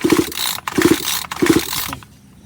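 A gasoline chainsaw with stale fuel being pull-started during a spark plug test: three quick ratcheting recoil pulls, each a rapid burst of clicks and whirring, evenly spaced and close, with no engine catching.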